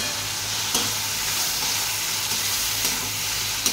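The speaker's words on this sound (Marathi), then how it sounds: "इथं टोमॅटो घेतलेले 2 ते टोमॅटो फ्राय करायला टाकत आहे" Tomatoes fry in a pan with a steady, close sizzle and hiss, broken by a few soft scrapes and taps as they are stirred.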